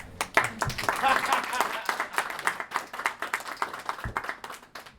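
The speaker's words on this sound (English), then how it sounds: "So I think a round of applause to Clelia." A smallish audience at a coffee-meetup keynote claps, with distinct, uneven individual hand claps rather than a smooth roar, and voices talking over and around the clapping.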